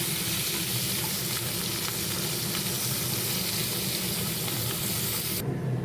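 Crab pieces frying in goat fat in a pan, a loud, continuous sizzle and crackle with steady hiss, cutting off abruptly at the very end.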